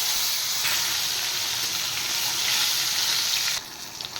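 Koi fish frying in hot oil, with a loud, dense, continuous sizzle close by that drops sharply near the end, leaving quieter crackling.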